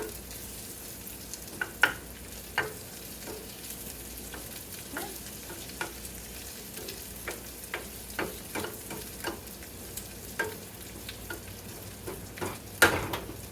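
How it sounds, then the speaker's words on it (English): Tortillas and onions fry with a steady sizzle, broken by frequent scraping and stirring clatters from a utensil in the pan. "Now we have tortillas and onions frying up in there."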